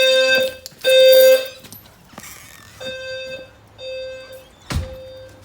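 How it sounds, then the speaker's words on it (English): An SFP-10UD low frequency fire alarm sounder under test blares in repeated tonal bursts separated by gaps, loud and near, with clunks and mechanical knocks between pulses and no talk. "Low frequency sounder's good."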